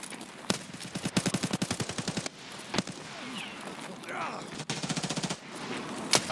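Rapid automatic gunfire in the shooter game Escape from Tarkov, loud bursts of closely spaced shots broken by a few sharp single cracks, with a voice speaking briefly between volleys.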